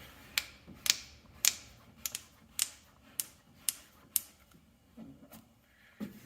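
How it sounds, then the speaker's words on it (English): A felt-edged squeegee presses raw 3M reflective vinyl onto a truck door, making a series of crisp, evenly spaced ticks and light slaps that are close and quiet, with no talking. "Now I'm using the felt side of my squeegee because this is raw material."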